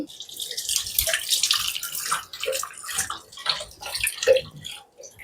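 Jaggery vadas (bellam garelu) dropped one by one into hot oil give a continuous busy sizzle and bubbling with small pops, close and steady throughout.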